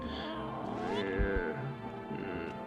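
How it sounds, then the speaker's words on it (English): A cat meows inside a video game, a few short harmonic cries rising and falling over steady game background sound. "Pick up the cat. Meow, meow, meow."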